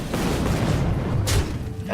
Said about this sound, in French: Explosion de lave.